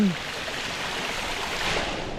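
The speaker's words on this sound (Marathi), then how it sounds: "धबधबे सगळे वाहत आहेत" A rain-swollen forest waterfall roars as a continuous broadband rush of water, steady and fairly loud throughout, with no voices.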